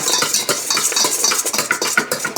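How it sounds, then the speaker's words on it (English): Keto butterscotch pound cake batter is whisked by hand in a bowl, the wire whisk scraping and clicking in a fast, even rhythm, close and loud, with no talk. "I take my whisk and put this in here and whisk it together"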